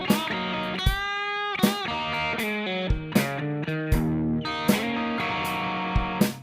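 A guitar solo rings out over a drum beat: bent, sustained notes and busy licks, with cymbal crashes hitting at a steady, regular interval, loud and close. No voices.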